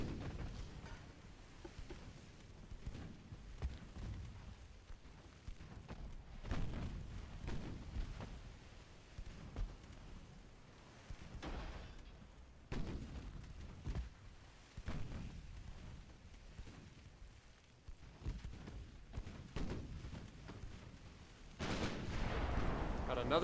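Naval gunfire in the warship strategy game Ultimate Admiral Dreadnoughts, with repeated booming salvos and rumbling impacts at irregular intervals over a continuous low battle din.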